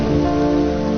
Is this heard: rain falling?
yes